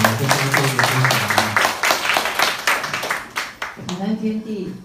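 An audience claps at an indoor gathering, a brief patter of scattered hands under a voice speaking through a microphone.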